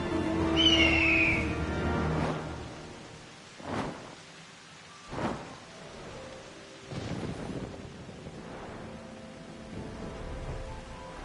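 Thunderstorm with rain in Final Fantasy XIV: several loud thunder cracks and rolling rumbles at intervals over a steady rain hiss, with an early high bird-like call.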